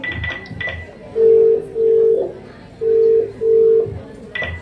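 A phone call ringing out unanswered: two pairs of even, steady ring tones, each about half a second long with short pauses between them, and brief clicks and a faint voice at the start and end.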